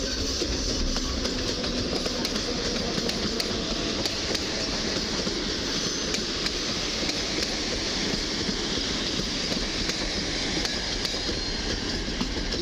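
Griffin EU160 022 electric locomotive hauling an Intercity Panorama train from Wrocław Główny to Warszawa Wschodnia past Warszawa Zachodnia station, a steady loud rumble with rhythmic wheel clatter over rail joints throughout.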